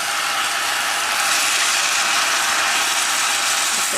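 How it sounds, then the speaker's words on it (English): Dry rice is poured slowly into a pot for a spiced rice and meat filling. It makes a continuous, grainy rushing hiss, close and fairly loud, with no voices. "I want to add my rice to this now."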